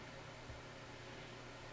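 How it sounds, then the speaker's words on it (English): A hairdryer blows a steady, quiet airy whoosh over fresh paint on a scale model of a Canadian armoured machine gun carrier, holding an even level throughout with no talking. "And the hairdryer again."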